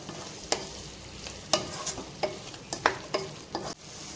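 Chopped green capsicum sautéed in a pan, stirred with a utensil that scrapes and clinks at irregular intervals over a soft, steady sizzle.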